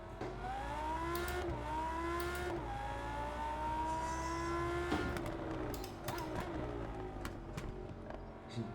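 A Lamborghini engine revs in a racing game, its pitch climbing and dropping across several sweeps, then settling into choppier shifts and bursts near the end.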